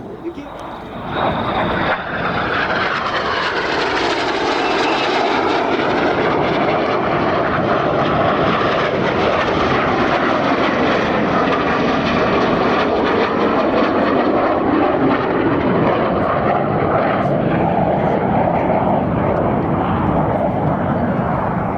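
Red Arrows jets fly a display at Sywell Air Show, pulling up at over 450 miles per hour. A loud, sustained jet roar sweeps past and swells, with its pitch shifting as they pass. A commentator talks over it.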